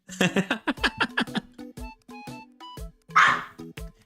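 A dog barks in a quick burst of about ten sharp barks, then gives a few short yips and whines before one louder huffing bark near the end, all close and loud.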